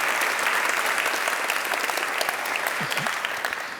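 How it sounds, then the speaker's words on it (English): Steady applause from a summit audience in a hall, many hands clapping densely and continuously at close range with a brief whoop near the end. "Let's hear it for Janet Coyle"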